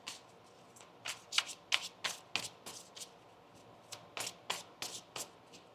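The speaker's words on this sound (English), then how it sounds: "One more shuffle here." Tarot cards shuffled in short bursts of crisp snapping flicks, close and clear, with brief pauses between groups.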